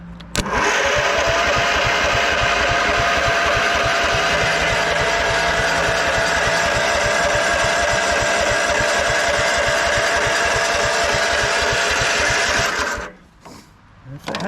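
A 1999 Husqvarna LTH 130 lawn tractor engine being cranked by its starter, a loud, fast, steady whirring churn that runs for about thirteen seconds before cutting off abruptly.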